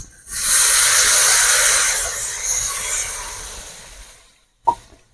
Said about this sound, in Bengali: এবার আমি এর মধ্যে একটু জল দেবো এগুলো সেদ্ধ হওয়ার জন্য